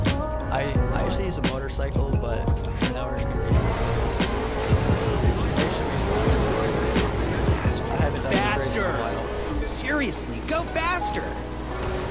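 In The Crew 2 video game, a race car speeds along the Strip South course, its engine drone running steadily beneath continuous talking.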